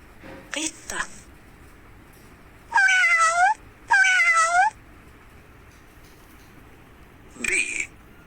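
A cat meows twice in close succession, each call clear, loud and drawn out, with brief bits of a voice before and after.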